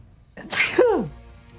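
A single sharp sneeze indoors, a quick inhaled build-up followed by one loud, close burst that trails off into quiet.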